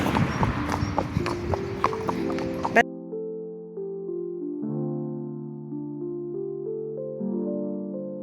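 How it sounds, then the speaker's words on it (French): A pony's hooves clip-clop in a quick, steady rhythm on a ride outdoors, then stop abruptly and give way to soft, sustained musical notes. "Bada, c'est un PTT, c'est un poney tout-terrain"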